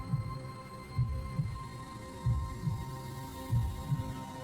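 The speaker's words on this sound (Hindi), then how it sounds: "दिल तेजी से धड़कने लगा" A heartbeat sound effect in a Hindi horror story, with paired thumps pulsing at a steady, quick rhythm over a low hum, close and alone without narration.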